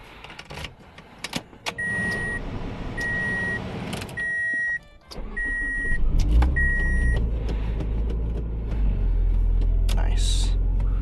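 A Toyota Matrix XRS starts up with a door-chime beeping and clicks, then drives off with a steady low engine and road rumble, while someone talks intermittently inside the car.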